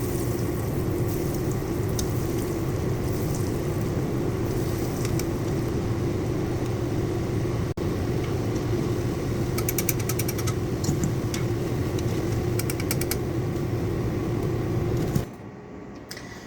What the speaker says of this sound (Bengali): এবার আমি এটা গরম তেলে ভেজে নেবো।